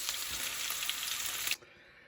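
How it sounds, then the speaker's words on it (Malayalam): Hot mustard-seed tempering poured into a ground-coconut fish curry gives a loud, steady hiss of sizzling for about a second and a half, then cuts off abruptly into quiet. "അതിനുശേഷം ഈ താളിച്ചത് നമുക്ക് തേങ്ങ അരച്ച മീൻ കറി ഇട്ട് ഒഴിച്ചു കൊടുക്കുക"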